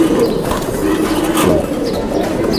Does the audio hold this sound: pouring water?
no